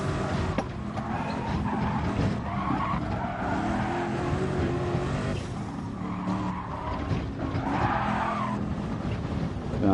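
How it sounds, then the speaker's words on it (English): A race car in a racing video game bumps over curbs and runs off track, with a continuous loud engine roar, tire squeal and skidding rumble throughout. "Bumping over the curbs dramatically there."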